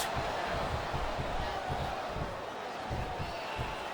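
Wrestling crowd in the WWE SmackDown vs Raw 2008 video game during a tag team match, a faint steady arena roar of cheering with commentary voices over it.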